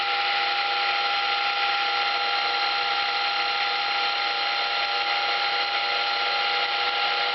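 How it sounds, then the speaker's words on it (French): A milling machine mills the ends of a steel angle clamped in a milling vise, giving a steady, continuous high whine with no pauses, close and alone with no talk. "je vais fraiser les bouts pour les rendre parfaitement droits"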